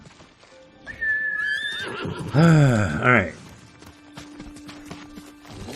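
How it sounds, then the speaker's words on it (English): In the video game Ghost of Tsushima, a horse gives a loud, close whinny rising and falling over a second or so, with hoofbeats clopping around it and someone speaking briefly. "Get on that horse, son."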